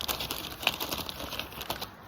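A plastic baggie is crumpled and torn into small pieces for a homemade fire starter, producing close, quiet crinkling with sharp irregular crackles and rips and no voices.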